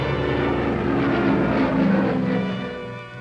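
Airplane in flight carrying a satellite toward the Atlantic Missile Range, a loud steady engine roar with a rich droning tone that swells slightly and then fades near the end.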